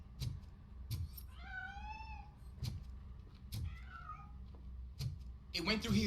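A cat meows repeatedly with rising, wavering cries inside the Robocop video game, near and clear over soft footsteps and clicks, ending with a sharper scuffle.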